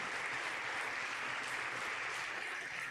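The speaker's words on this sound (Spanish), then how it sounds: "Denle un aplauso al Señor, porque es tan maravilloso" A congregation in a church service applauds, a dense, even burst of clapping that holds steady for a few seconds with no talk over it.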